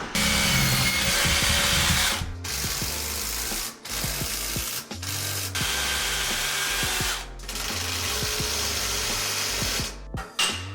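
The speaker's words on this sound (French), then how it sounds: "Donc on perce avec une mèche de 10." A power drill with a 10 mm bit bores into concrete during interior house construction, whirring loud and close in several sustained bursts separated by brief pauses.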